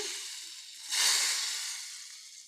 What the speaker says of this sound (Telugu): ఇప్పుడు ఆవాలు వేసి పోపు వేసాను